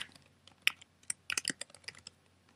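Quick bursts of typing on a computer keyboard while renaming a folder, a short run of soft, irregular key clicks, close and quiet with no voice.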